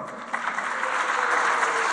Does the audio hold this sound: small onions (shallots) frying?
no